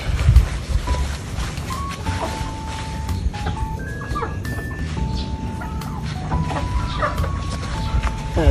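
Native chickens on a farm keeping turkeys and ducks, clucking and calling steadily, with outdoor ambience and faint rumble throughout.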